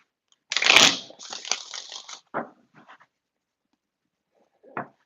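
Tarot cards being shuffled by hand: a loud riffling burst followed by several shorter papery shuffles and taps, then a pause and one last brief flick, close and alone without speech.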